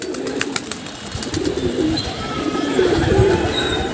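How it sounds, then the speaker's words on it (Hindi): Several pigeons coo in soft, repeated rolling calls on a rooftop, growing a bit louder toward the end, with faint outdoor noise and a few light clicks beneath. "ये देखिए और कबूतर आ रहे हैं यहाँ पे।"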